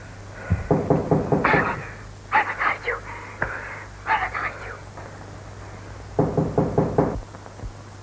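Knocking on a door in a 1930 period drama, three loud bursts of rapid raps separated by pauses, with a steady low hum underneath and a faint voice between the bursts.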